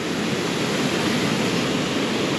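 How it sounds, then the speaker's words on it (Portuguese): Steady, full rush of the Schiessentümpel waterfall, a broad continuous roar of falling water heard from a nearby viewing balcony, loud and unbroken with no voices. "e está aqui a cascata"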